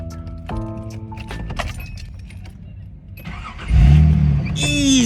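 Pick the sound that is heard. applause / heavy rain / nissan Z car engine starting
nissan Z car engine starting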